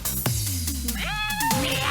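A person mimics a cat's meow between lines of a German children's rhyme about a cat: one drawn-out, rising-then-falling vocal miaow, close and clear over a musical backing.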